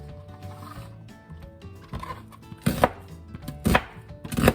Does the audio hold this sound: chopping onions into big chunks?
yes